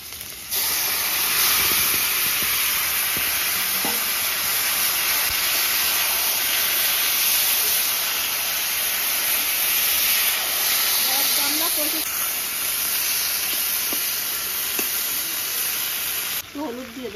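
Taro leaves hit hot oil tempered with cumin and chilli, letting out a loud, steady hiss and sizzle that holds throughout, with faint clinks of utensils now and then.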